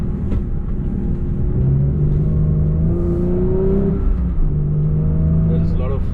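Porsche 911 GT3 Touring engine revving toward high RPM on a road drive, a loud close rising and falling engine note that climbs in pitch several times over about six seconds, with a voice talking over it.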